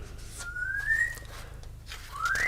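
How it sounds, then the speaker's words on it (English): A pet bird whistles clear rising notes indoors, two distinct whistles separated by a pause, fairly loud over faint room noise. "He is whistling."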